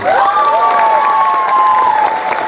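A crowd at a Sundanese comedic Islamic sermon cheers and claps loudly for young boarding-school students, with a long shrill cry riding above the dense noise for about two seconds.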